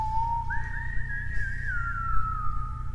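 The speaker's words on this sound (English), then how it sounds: "Start off with a bit of a whistle." A single whistled melody rises and glides through a short tune over a low, steady backing hum, opening a blues song.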